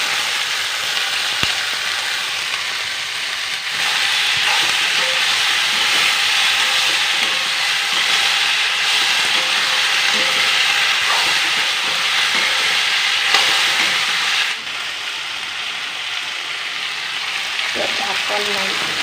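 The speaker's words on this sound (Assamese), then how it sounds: "এতিয়া এইখিনি চব্জিখিনি কাটি থোৱা চব্জিখিনি ঢালি দিম।" Chopped vegetables tipped into a hot pan sizzle steadily, a loud continuous hiss that holds for the whole stretch, with faint clinks and shuffling of the cook nearby.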